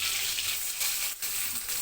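Boiled vegetables fry in a pan for a mash, producing a brief, steady hissing sizzle up close with a short dip and a scrape of stirring, no voices.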